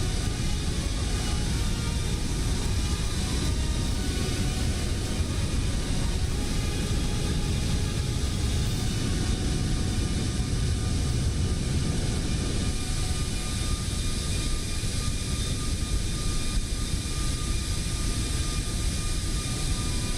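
A steady, unbroken airliner engine drone fills a cockpit in Microsoft Flight Simulator during a cruise from Seattle to Juneau over the Canadian west coast, a constant loud hum and rush with no pauses.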